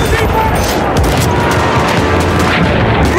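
Artillery explosions in the video game Battlefield, a loud, dense barrage of booms and crackling gunfire rolling on without a break, with voices mixed in.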